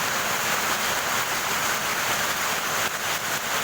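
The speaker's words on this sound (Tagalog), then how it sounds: "Napakalakas ng ulan." Heavy rain pouring down in Zambales: a dense, constant broadband hiss of downpour, loud and unbroken, with no voices heard.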